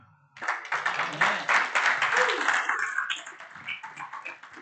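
Church congregation clapping and cheering during a Sunday worship service, a dense, sustained burst of many hands that swells quickly and continues steadily, with voices mixed into the applause.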